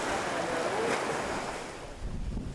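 Stormy, rough waves churn across the Rangiroa lagoon in French Polynesia on a rainy day, a loud continuous surge and wash with heavy wind buffeting the microphone.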